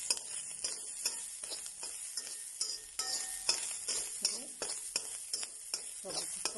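Grated coconut roasting in a pan for a mushroom curry masala, with soft scraping stir strokes and light sizzling repeating steadily up close at low volume.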